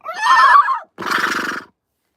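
A person's voice imitates a horse whinny in two close, loud calls, the first a shrill wavering neigh and the second a shorter, rougher, snorting whinny, followed by silence.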